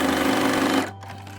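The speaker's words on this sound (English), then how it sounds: "we're going to sew, and I'm going to use a 1/4 of an inch seam allowance" An electric sewing machine stitching through netting and layers of fabric at a quarter-inch seam, running as a loud, steady, rapid mechanical whir that stops abruptly partway, leaving a low hum.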